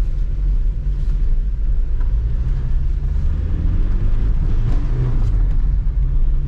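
A Volkswagen Golf's engine runs during a test drive before purchase. Its low rumble stays constant and fairly loud from inside the car the whole time, with no talk.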